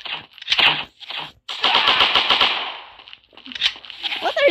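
M4 carbine fire in the shooter game Offline Striker comes in rapid automatic bursts, loud and close, separated by short pauses, with a few brief sharp shots near the end.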